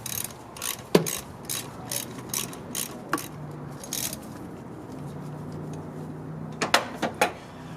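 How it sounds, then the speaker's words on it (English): A socket ratchet turns the 17mm fuel line bolt on a 1988–91 Honda Civic intake manifold, making a run of close, evenly spaced ratchet clicks, a short pause, then a few sharper clicks. "It's a 17mm bolt. You can use your socket and ratchet."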